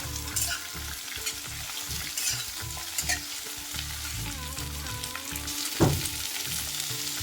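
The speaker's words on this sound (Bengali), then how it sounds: "ফোড়নে শুকনো লঙ্কা আর 5 ফোড়ন দিয়ে কেটে রাখা কুমড়ো, বেগুন, শিম, নুন হলুদ দিয়ে একটু ভেজে নিতে হবে।" Pumpkin, eggplant and broad beans sizzle in hot oil tempered with dried red chili and five-spice, with loud continuous frying and repeated scraping stirs of a spatula in the pan, no voices.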